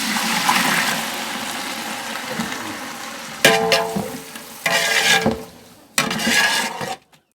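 Capsicum fries in a pan with a hissing sizzle that comes in bursts, cut by sudden loud surges and pauses as the pan is stirred or moved, then the sound ends abruptly.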